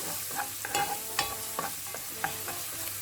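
Crushed ginger and garlic sautéing in hot oil for a Kuttanadan duck curry, a steady close sizzle with repeated spatula scrapes and taps against the pan, no voices.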